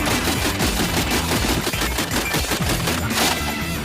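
Military weapon firing at long distance, rapid bursts of gunfire in quick repeated cracks, loud and sustained with no talk.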